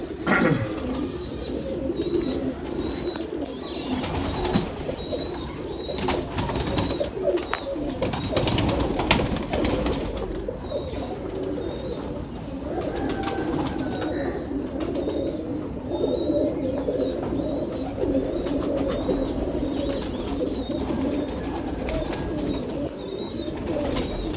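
Pigeons coo repeatedly in soft, rolling calls over a steady background of outdoor ambience, continuing throughout.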